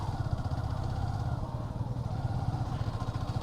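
A Yamaha FZ motorcycle engine running steadily while riding toward a sea beach, a low continuous throbbing drone with even pulsing, moderately quiet and heard alone.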